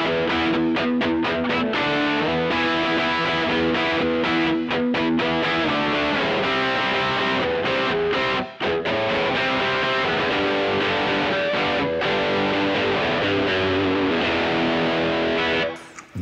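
An electric guitar playing a part through a Marshall amp with HX modulated delay and an Air Apparent effect, thick and distorted, with sustained chords and fast picked runs continuing loudly for about sixteen seconds.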